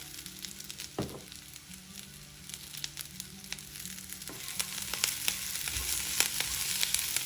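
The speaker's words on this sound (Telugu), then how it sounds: "పచ్చి కొబ్బరి తురుము దీనిలో వేసి వేయించుకుందాం." Grated fresh coconut frying in a pan with curry leaves, giving a steady crackling sizzle broken by irregular spatula scrapes and clicks, close by and with no talking.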